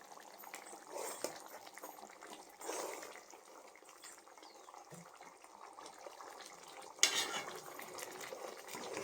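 Mutton chukka, a spicy dry mutton dish with curry leaves, being stirred and mixed in a pan, with scraping and clinking of a utensil against the metal in a few louder bursts over a low steady kitchen background.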